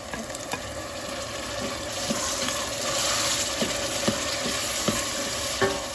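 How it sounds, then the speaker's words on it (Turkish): Tomatoes dropped onto onions frying in a pan for a green bean dish give a steady, loud sizzle, with the scrape of stirring and occasional clinks along the way. "Soğanın üstünde domatesi ekleyelim."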